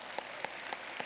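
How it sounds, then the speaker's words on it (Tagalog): Church congregation applauding during a Sunday service, a soft steady wash of clapping with a few sharper peaks, heard alone without talk. "Gusto ka palakpak sa Diyos, Exxon?"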